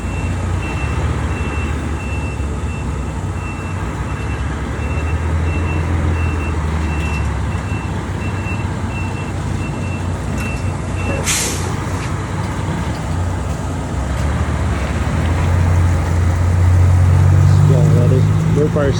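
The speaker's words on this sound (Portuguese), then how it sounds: "Bonito esse caminhão aí." A truck runs at close range with a loud, steady engine rumble that swells toward the end. Faint high beeps and distant voices sit under the engine noise.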